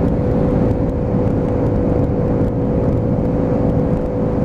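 A Lexmoto Aura E5 motorbike climbing a big hill with the throttle held steady gives a loud, continuous engine drone mixed with wind rush. It holds an even pitch throughout with no talking.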